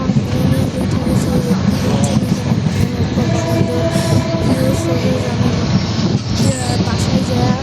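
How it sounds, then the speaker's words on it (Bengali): Inside a passenger train bound for Dhaka, a loud, steady rumble of wheels on track fills the carriage, with rhythmic rattling and occasional squeals, while people talk nearby. "সো গাইজ আমরা এখন ট্রেনে উঠে গেছি।"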